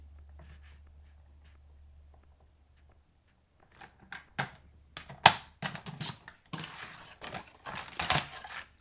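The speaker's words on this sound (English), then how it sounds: "So I'm going to cut from this tip to this tip." Scissors snip through folded paper from one tip to the other while making a safari cube box craft, a run of crisp, crinkly cuts and rustles close up after a few seconds of near silence.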